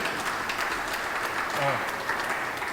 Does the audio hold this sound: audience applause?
yes